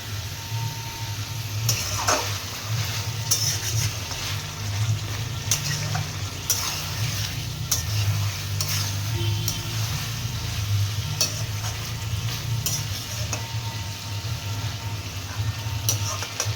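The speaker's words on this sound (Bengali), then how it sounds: "এখন এই যে রাতের ডিনারে এখন এই যে চিকেন কষা করা হচ্ছে" Spicy chicken kosha with potatoes fries in a pan with a steady, close sizzle, while a spoon stirs and scrapes at regular intervals over a low background hum.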